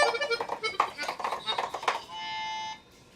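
A Yamaha Sonogenic keytar soloing on its backing setting plays a quick run of bright synth notes over chordal accompaniment, ending on a single held tone that cuts off sharply.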